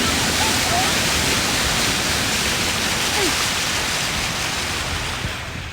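Flood water rushing past in a steady, loud, broadband roar with no breaks, fading slightly toward the end.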